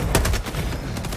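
Rapid bursts of video game gunfire crack in quick succession over a short second, close and loud, with no talking.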